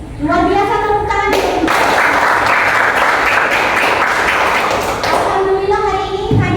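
Children in a classroom clap together after a roll call, a loud burst of applause lasting several seconds, with a teacher's voice speaking before and after it.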